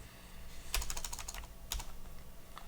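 Several quick keystrokes on a computer keyboard as a hex color code is typed, a burst of rapid clicks followed by a second short cluster and one faint tap, close and fairly quiet with no talking.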